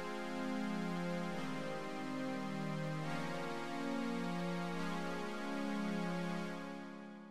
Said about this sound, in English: just a really basic chord progression. It sounds like this.